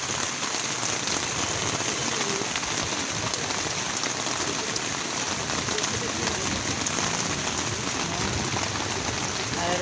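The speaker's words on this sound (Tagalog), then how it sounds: "Ang lakas ng ulan." Heavy rain pounds on a closed camping tent at a campsite in Capas, Tarlac, a loud, continuous dense patter filling the whole stretch without any talk.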